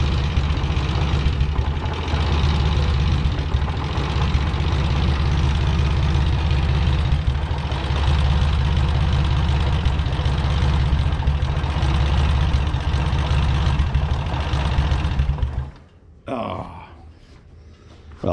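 An Oliver 1550 tractor engine idles low with a steady, heavy, throbbing rumble for about fifteen seconds, then cuts out abruptly, leaving near silence and a brief clunk.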